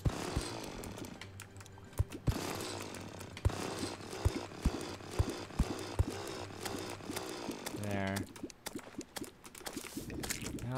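A buzzing, grinding drill in the video game Terraria whirs continuously with sharp thuds and crunches breaking through at intervals, loud and close.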